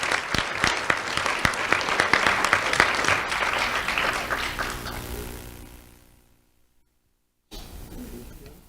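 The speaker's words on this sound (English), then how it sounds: "Let's have a round of applause for Nadia Garcia." A crowd applauds a Do the Right Thing award winner at an April 2024 ceremony, a dense burst of clapping that fades to silence before a voice resumes.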